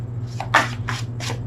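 A deck of tarot cards being shuffled by hand, several short papery riffling bursts in quick succession, close and fairly loud.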